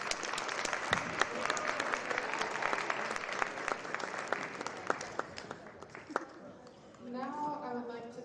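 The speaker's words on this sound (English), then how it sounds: "Can we get another round of applause for them?" Audience applause fills a school Black History Month assembly, a dense sustained clapping that fades out near the end as a voice begins speaking over the thinning crowd.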